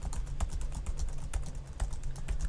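Continuous typing on a computer keyboard, a dense run of close, crisp key clicks with small irregular gaps, no one speaking.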